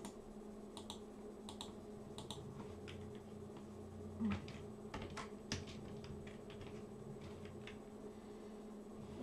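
Faint keystrokes on a computer keyboard as a password is entered during a Graylog 4 server install on Debian 11, with scattered clicks and short bursts of typing over a quiet hum and no voices.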